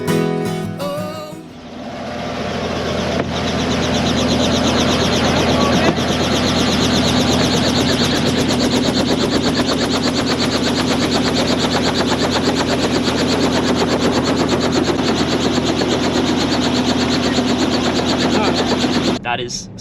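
A helicopter flies on a touring trip, its engine and rotor making a loud, steady, dense roar that holds unbroken throughout, with no talk audible over it.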